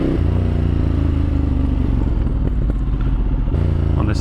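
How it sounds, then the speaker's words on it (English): Motorcycle engine running close by with a steady, loud rumbling idle and light mechanical clatter, holding constant throughout with a slight change near the end. "Honestly, I love the way this bike sounds."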